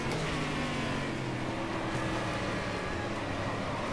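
Stock car V8 engine in the racing game Game Stock Car 2013, a steady loud drone with strong low harmonics and slight pitch shifts, continuous throughout with no talking.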